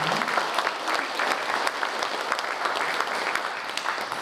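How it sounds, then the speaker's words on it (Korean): Audience applause at a Korean commemoration ceremony for Patriotic Martyrs' Day, steady moderate clapping from a crowd with scattered sharper claps, no voices over it. "한 박수 부탁드립니다."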